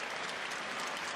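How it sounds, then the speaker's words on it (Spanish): Stadium crowd at a Real Mallorca versus Elche football match applauding as a French player is substituted off, a steady, dense wash of clapping heard from a distance, fairly faint and without talk. "La ovación para el jugador galo."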